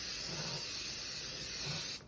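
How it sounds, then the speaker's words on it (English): Non-stick cooking spray hissing steadily onto a lasagna pan, one continuous close aerosol burst lasting about two seconds before cutting off, with no talking. "I'm going to lightly spray my lasagna pan"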